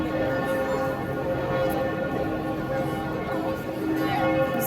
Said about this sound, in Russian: Звон колоколов.